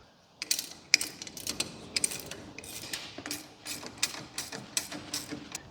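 A ratchet wrench clicks in repeated bursts while new brake caliper bolts are tightened during a brake pad swap on a bagged Harley F150, close and fairly quiet, with an irregular rhythm of sharp ratcheting strokes.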